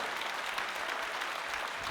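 A church congregation at an Easter Sunday service applauds in a steady, moderately loud wash of clapping that fills the brief moment without pause.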